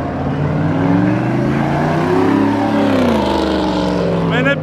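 A Dodge Challenger Scat Pack roars loudly and continuously as it does donuts at a car meet near a crowd. The engine note rises and falls through sustained revving, with a higher whine near the end.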